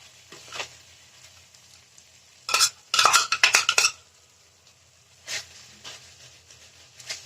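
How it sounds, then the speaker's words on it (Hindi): Sliced jaggery tipped into a pan over a low gas flame, then stirred with a metal spoon: a few sharp clattering scrapes and taps in short bursts, close, over a quiet background. "अब इस गुड़ को हम गैस की फ्लेम को धीरे कर देते हैं। अब इस गुड़ को इसमें डाल देते हैं।"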